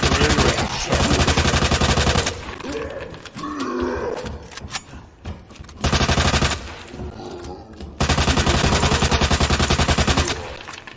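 Rapid pistol fire from Leon in Resident Evil 2 Remake comes in loud, dense bursts, broken by gaps where growls and grunts of creatures and game noise take over, with no talk on top.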